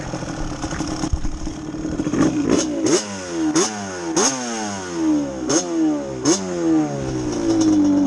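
A Yamaha Banshee 397cc ATV engine revs hard during a ride, a close, raspy two-stroke wail that climbs and drops in repeated sharp bursts, roughly a dozen throttle rips in a row with no talking.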